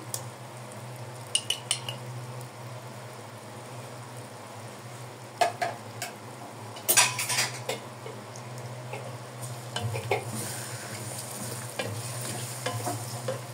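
Whole garlic cloves, a cinnamon stick, small cloves and a spoonful of tomato paste fry in a pot, giving a soft steady sizzle broken by close metal spoon clinks and scrapes as they are stirred, with no talking.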